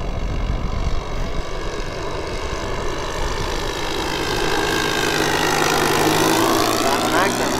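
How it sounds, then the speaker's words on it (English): A Magnum 91 engine on a quarter-scale Klemm L20 model airplane runs steadily in flight, a buzzing propeller drone that grows louder and rises in pitch toward the end, with a person talking over it. "That Magnum 91 running like a Swiss watch"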